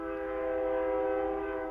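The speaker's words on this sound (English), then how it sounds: "train coming." A train horn sounds in one sustained, steady blast, loud and unbroken, with no other sounds over it.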